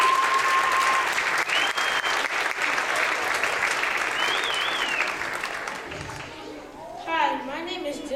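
Sustained applause from a school concert audience fills the hall, steady and dense for several seconds before thinning out, with some voices and a short tonal sound mixed in near the end.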